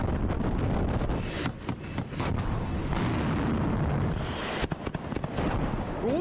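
A Russian Yars ICBM launches during a military exercise with a loud, sustained rumbling roar, punctuated by sharp cracks and gusts of wind buffeting the microphone.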